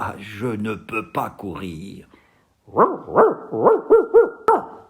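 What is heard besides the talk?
dog barking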